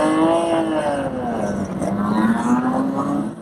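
Historic race cars pull away from the start at Silverstone, among them a Lister Bristol and a Jaguar XK150S, engines close and loud, pitch sliding down then climbing again as they rev and accelerate off the line.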